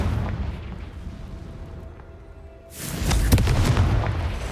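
A Confringo blast spell in a video game erupts as a sudden deep boom after a quieter stretch, swelling into a loud rumbling burst that lingers and slowly decays.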